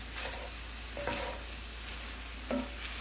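Ground meat and jalapeños being stirred in a pan, with soft scraping strokes and a few louder clinks of the utensil against the pan over a low background sizzle, close and fairly quiet with no talk.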